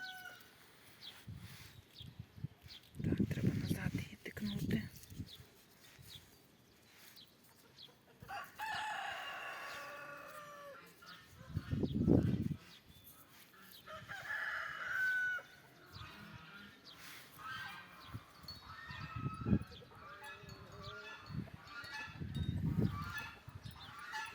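Chickens calling outdoors in a garden plot, several loud bursts of clucking and squawking separated by quieter stretches, with faint background noise between them.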